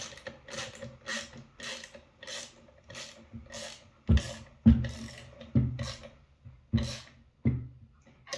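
Screws being tightened while fitting a #11815 coil nailer hanger onto a Hitachi/Metabo NV83A5 nailer, heard as a run of rhythmic ratcheting clicks and mechanical creaks that grow sharper and louder partway through.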